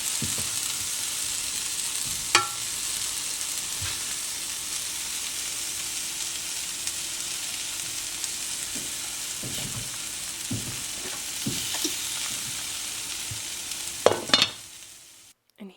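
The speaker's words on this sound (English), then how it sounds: "So our onions and peppers, just gave it a little bit of salt, and then just continued to stir these every now and again until they were golden and brown." Onions and peppers frying in a pan give off a continuous nearby sizzle, with intermittent scraping stirs and a clatter just before the sound stops.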